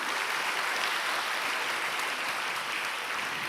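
A church congregation at a Christian teachers' conference applauds in praise to God, a dense, steady wash of many hands clapping at once, loud and continuous throughout, with no voices over it.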